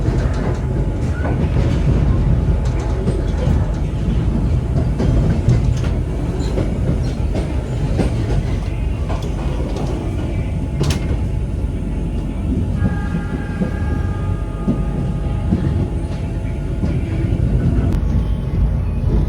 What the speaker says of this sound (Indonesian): kereta Belambangan Express diberangkatkan dari stasiun Ketapang menuju Pasar Senen